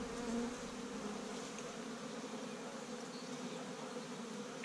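A steady, droning hum of many honeybees buzzing close by at a hive, continuous and moderately quiet, with no voices.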